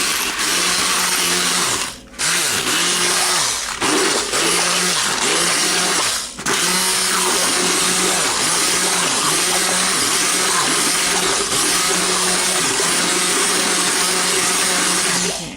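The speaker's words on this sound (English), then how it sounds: "So that's why a blender or a hand blender, something to puree the whole thing." A blender purees pumpkin pie filling with a loud, continuous grinding whir lasting about fifteen seconds, with a couple of brief stutters early on, alone and close.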